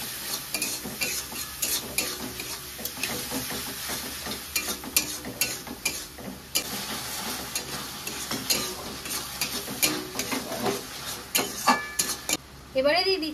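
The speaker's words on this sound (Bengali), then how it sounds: "এবার ভালো করে কষিয়ে নেব।" Turmeric, chili powder, garlic paste, salt and a pinch of sugar sizzle steadily in a pan for stuffed pointed gourd, while a spoon scrapes and clinks against the metal in busy, uneven strokes throughout.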